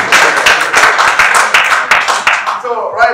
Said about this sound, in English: A round of applause for me too.